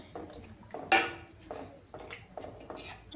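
A spoon stirs fish curry in a pot, giving faint, scattered clinks and scrapes against the metal, with one sharper clatter early on.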